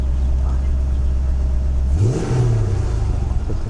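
A Mercedes-Benz W126 560 SEL engine idles with a low steady rumble, then revs up sharply and settles into a rising exhaust drone, close and loud.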